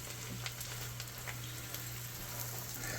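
Mushrooms hitting a hot pan with butter and browned bits, giving a steady, even sizzle and crackle that holds without a break and stays moderately close.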